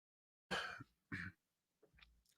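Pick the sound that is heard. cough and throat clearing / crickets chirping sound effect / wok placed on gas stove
cough and throat clearing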